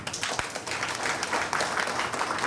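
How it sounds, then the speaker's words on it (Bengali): An audience at a political speech gives steady, dense applause that fills the hall without a break. "তার জন্য আপনারা একবার হাত তালি দেবেন।"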